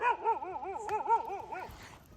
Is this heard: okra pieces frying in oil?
no